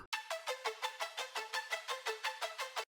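A bright synth arpeggio from a melodic drum and bass track repeats about a dozen even, rapid notes in a steady pattern, clear and up front with no voices.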